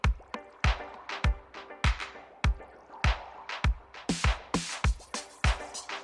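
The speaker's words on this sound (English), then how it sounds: "We got some liquid going on in here. Pouring drinks or something." Liquid sounds in a reggae-style music track, a rhythmic series of distinct dripping, plopping splashes repeating in a steady pattern, clear and fairly close, with no voices.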